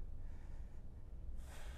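Heavy breathing during a personal-training exercise session, close and fairly quiet: a rough, continuous exhale-inhale with a sharper snorting gasp toward the end, with no talking.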